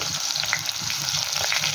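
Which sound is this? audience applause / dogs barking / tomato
tomato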